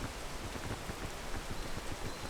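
Rain falls steadily in the climbing video game PEAK, a dense, even patter of drops on surfaces with a constant hiss, close and uninterrupted.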